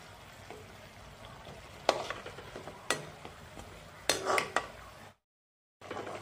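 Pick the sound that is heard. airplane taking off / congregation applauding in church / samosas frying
samosas frying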